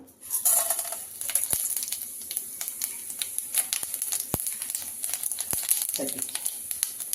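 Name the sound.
lentils frying in oil in a pan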